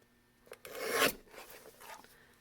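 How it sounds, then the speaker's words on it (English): Card stock being trimmed down for card making: a single close rasping, scraping cut that swells and fades over about a second, with fainter handling noise after. "I'm going to trim that down."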